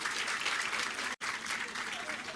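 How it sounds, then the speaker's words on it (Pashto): A crowd at a political gathering applauds to welcome Alkozai, dense sustained clapping from many hands that cuts out for an instant near the middle and then carries on at full strength. "الکوزي صاحب ته هم ښه راغلاست وایو په ویاړ یې چکچکې وکړئ"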